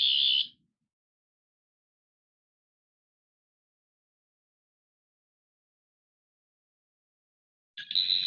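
Two short electronic beeps from a toy Doctor Who sonic screwdriver, one at the start and one near the end, separated by a long stretch of silence.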